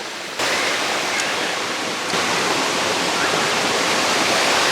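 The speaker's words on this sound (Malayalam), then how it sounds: "ഈ വെള്ളം ഒഴുകി വരുന്നതെന്ന് പറഞ്ഞാൽ ചെങ്കൽ കല്ലുകളുടെയൊക്കെ ഇടയിലൂടെ ഒഴുകി താഴേക്ക് വന്ന് പതിക്കുകയാണ്." Waterfall pouring down between laterite rocks, a dense, loud, unbroken rush of water heard up close with no voices.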